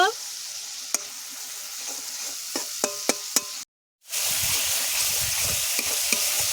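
Ground ginger-garlic paste with turmeric and chili powder fries over tomatoes in a pan for a bata fish curry, a loud continuous sizzle punctuated by several sharp utensil taps, briefly cutting out before resuming.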